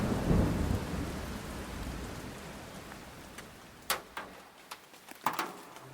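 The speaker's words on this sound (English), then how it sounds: "A violent storm tears across the desert outside of Roswell" A violent desert thunderstorm near Roswell, New Mexico: a rumbling roll of thunder over heavy rain gives way to steady rainfall, with several sharp, close cracks or drips near the end.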